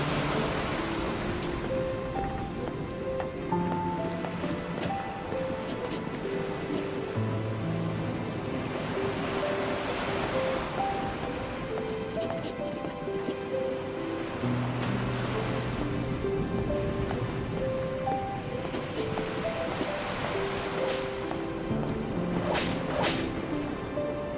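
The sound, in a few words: ocean waves crashing, from video game NieR Re[in]carnation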